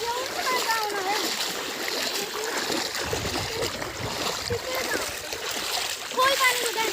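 Swimmers splash about in a river on a summer day, a continuous busy churn of splashing and rushing water close by, with voices chattering underneath.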